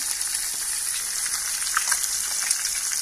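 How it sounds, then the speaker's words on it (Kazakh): Loud, continuous sizzling and spitting of fish frying in a hot pan, with occasional sharper pops throughout. "Әлі қуырылып жатыр"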